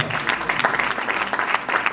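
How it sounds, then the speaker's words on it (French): Applause from an audience at a community address in Dallas: a dense, steady patter of many hands clapping together, moderately loud and continuous, with no distinct voices standing out. "Je croyais que quelqu'un allait applaudir."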